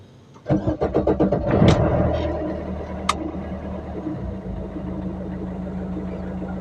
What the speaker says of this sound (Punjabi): ਗੱਡੀ ਹੋ ਗਈ ਆਪਣੀ ਸਟਾਰਟ